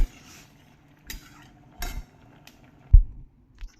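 A cooking pot and metal utensils clink and knock in a few separate, close handling sounds while hot water is drained from boiled taro stalks in a village kitchen, with quiet pauses between them.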